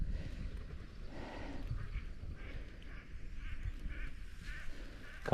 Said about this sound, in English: This backwater bog is just full of beautiful geese and ducks.